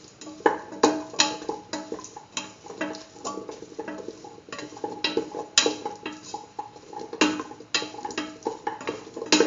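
A spoon works through a pot of lentil Hausa potato stew, giving repeated clacks and scrapes against the pot in an irregular, fairly loud rhythm with no voices.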